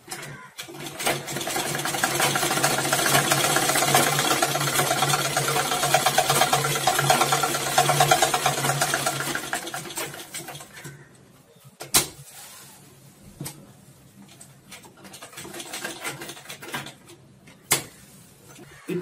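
Sewing machine stitching along the edge of a gents' pant, a fast, dense mechanical whirr running for about ten seconds, then stopping, followed by a few scattered clicks and knocks.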